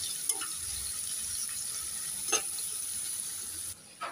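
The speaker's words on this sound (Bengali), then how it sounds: "এবার নেড়ে চেড়ে পেঁয়াজগুলোকে একটু লাল লাল করে ভেজে নেব" Chopped onions frying in oil and being stirred, giving a steady, fairly quiet sizzling hiss with a few brief scraping clicks from the spoon.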